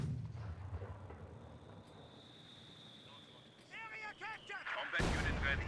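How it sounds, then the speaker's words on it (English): A mortar shell slams down in Company of Heroes 2 with a sudden loud burst near the end, after quiet ambient battle noise and brief voices. "Good hit there from the mortar"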